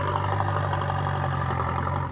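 A John Deere tractor engine runs steadily on a farm at night while lifting a heavy load. It makes a continuous, close, even mid-low drone with a slight throb and no talking.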